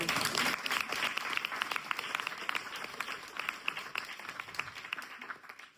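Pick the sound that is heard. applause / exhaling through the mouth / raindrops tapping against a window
applause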